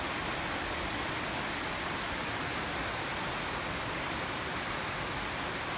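Heavy rain pouring in Dumaguete, a thick, even hiss of downpour that stays constant and fairly loud for the full stretch with no voices or breaks.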